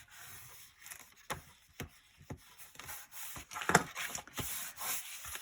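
Paper is burnished down on a mini album page with repeated quiet rubbing strokes, irregular short scrapes and swishes, close and soft with nothing else in the background.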